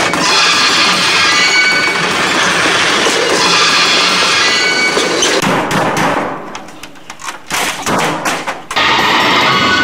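A train rolls along the tracks as part of a comedy action scene, a loud continuous rumble with clattering and hiss, then breaking into bursts and gaps before the steady noise returns.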